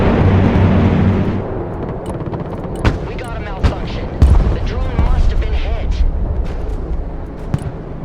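Artillery and gunfire in the video game Broken Arrow, with several sharp booms and shots scattered across a busy battle mix beneath a steady low rumble, heard alongside voices.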